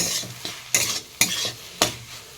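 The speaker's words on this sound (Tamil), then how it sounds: "இது இன்னுமே வதக்கணும்" Greens being sautéed and stirred in a pan for an Odisha-style keerai poriyal, with a soft steady sizzle punctuated by four sharp scraping strokes of the spatula against the pan, close and alone.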